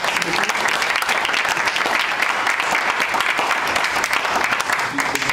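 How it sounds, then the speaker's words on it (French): Steady, dense applause from a sizable audience at a badminton league presentation, sustained throughout without pause. "on peut vous applaudir aussi pour votre attention"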